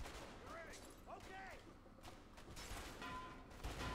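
Gunfire in the prison break video game A Way Out, with sharp shots scattered through a busy mix of game noise and music while players talk excitedly over it.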